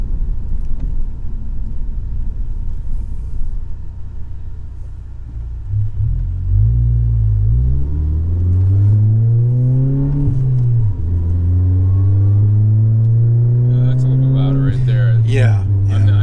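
A Volkswagen GTI's engine drones and rumbles from inside the cabin while driving, then climbs through several rising and falling revs as it accelerates, steady and fairly loud, with faint talk early on.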